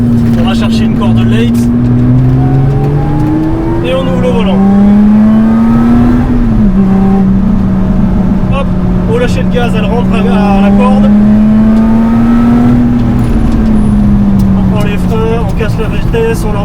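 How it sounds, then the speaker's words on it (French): A Lotus Exige S on a track day at the Lédenon circuit accelerates through corners, its engine note climbing and falling in repeated loud sweeps as someone talks over it throughout. "on accélère à la corde."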